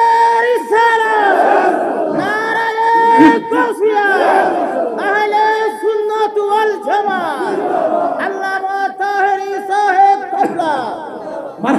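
A large crowd at a Milad-un-Nabi mahfil shouts Allahu Akbar in response to a Nara-e-Takbir call, loud massed voices rising in repeated waves across the whole stretch.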